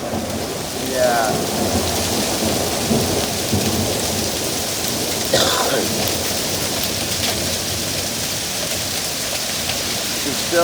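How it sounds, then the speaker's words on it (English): Heavy rain pours steadily through a violent storm with strong sideways wind and hail, thunder rumbling throughout, the downpour loud and close while brief voices break in now and then. "You can still see the rain is going sideways here."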